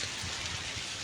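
Soft, steady hiss of rain falling in Himachal Pradesh during a spell of rain and snowfall, faint and continuous with a low rumble beneath.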